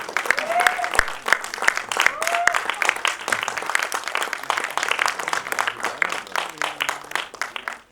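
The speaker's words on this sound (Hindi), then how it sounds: "तालियां और ज्यादा भी हो सकती है।" Audience applause at a movie trailer launch event, a dense, steady wash of clapping from a crowd, mixed with brief voices and stage sounds, fading near the end.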